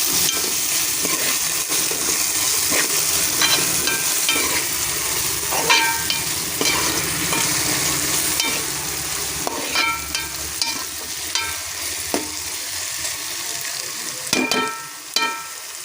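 Tamarind frying in a pan for fish curry (chepala pulusu), stirred with a spatula: a loud, continuous, close sizzle with repeated scraping stirs and sharper clinks near the end, no talking.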